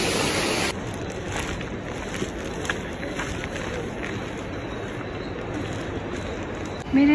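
Water of the Pailón del Diablo waterfall rushes at night in Baños, Ecuador, a steady broad hiss and roar heard close and continuous, with no talk over it.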